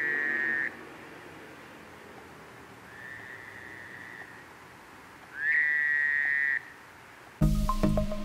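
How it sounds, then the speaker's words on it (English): Fowler's toads calling at night, a few drawn-out nasal trills of a second or so each, separated by pauses and heard at moderate distance over a quiet nighttime background, ending in a brief louder clatter. "there's only about 3 of the Fowler's toads calling."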